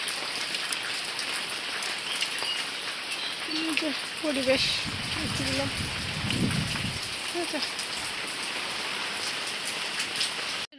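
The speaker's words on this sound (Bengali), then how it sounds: "হাওয়াও হচ্ছে প্লাস বৃষ্টিও হচ্ছে" Steady rain falls outdoors with wind, a dense even hiss that lasts throughout, while a person talks over it in the middle.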